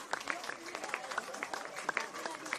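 A home crowd at Darcy Street applauds and cheers a stoppage-time goal by South Hobart in a women's football match, steady distant clapping and crowd noise with a commentator talking over it.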